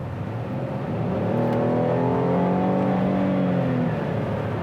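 The six-cylinder engine of a 2020 Chevy Blazer RS accelerating, heard from inside the cabin as a moderate, rising engine drone with climbing tones over several seconds.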